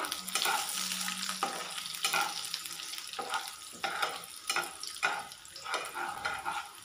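Urad dal roasts in hot oil in a pan for vegetable upma, sizzling steadily while a spoon stirs and scrapes it in repeated close strokes.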